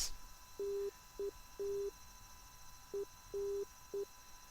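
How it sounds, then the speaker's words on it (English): Morse code tones from an F-86 Sabre cockpit in the DCS flight simulator game: a steady pitch keyed in short and long beeps, about six bursts over a faint hum with no talking. "sadly, I can't really understand the Morse code"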